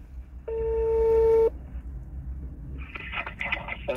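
A phone call being placed: a steady two-tone dial beep sounds for about a second, followed by a brief burst of brighter, higher tones, over low background rumble.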